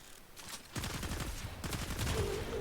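Poison quills pistol fire in the Warframe shooter game: a quick burst of sharp shots starting partway through and continuing in a rapid stream over game background sound.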